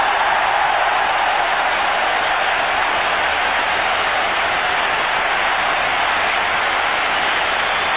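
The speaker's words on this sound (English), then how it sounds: "Listen to the crowd." Large stadium crowd at a 1996 Cricket World Cup semifinal between India and Sri Lanka in Calcutta, a dense, steady roar of cheering and applause that holds loud throughout with no break.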